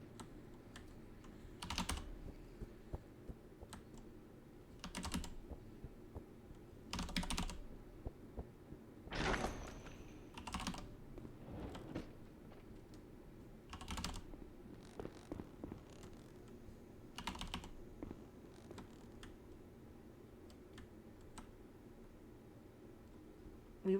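Keyboard typing during the typing game Blood Typers: quiet, steady key clicks with louder clustered bursts every couple of seconds, close but soft, with no talking.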